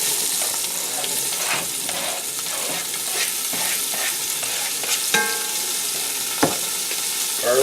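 Vegetables sizzle steadily in a warm pan with leftover olive oil, a close, continuous frying hiss with occasional sharper crackles and a brief clatter near the end.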